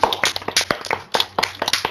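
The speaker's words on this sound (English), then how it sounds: "Everybody, round of applause, Jim DuBois." An audience claps together at an intimate leadership talk: dense, close, sharp hand claps in uneven bursts that swell and dip, with no one speaking over them.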